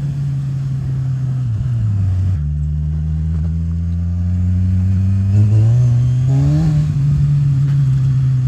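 A Kawasaki Z1000 naked motorcycle revs and pulls while being ridden, its engine note climbing through gears with brief drops at shifts, loud and close with wind rush, no talking.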